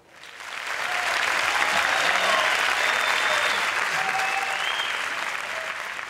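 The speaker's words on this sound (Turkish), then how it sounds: "kuvvetli bir alkış lütfen" Studio audience applause on a Turkish talent show, a sustained loud wash of clapping that swells in quickly and holds steady for several seconds before easing slightly.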